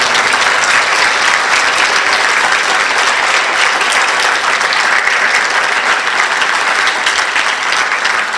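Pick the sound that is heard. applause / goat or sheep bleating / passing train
applause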